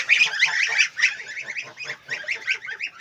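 Young geese kept in a small outdoor shed honk and call repeatedly in quick overlapping bursts, loud and close, with no voices over them.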